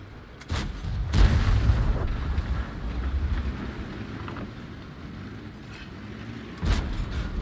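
A tank gun firing in the online game World of Tanks, a single heavy boom with a long rumbling tail, followed later by a second sharp blast, loud and alone without talk.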